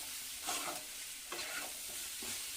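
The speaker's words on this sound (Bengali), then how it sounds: "ঘিটা দিয়ে একটু নাড়াচাড়া করে নামিয়ে নিলেই হয়ে যাবে গাজরের উপমা" A spoon scrapes through carrot upma with ghee in a pan in a few soft, rhythmic stirring strokes, with a faint sizzle underneath; the sound is quiet and close.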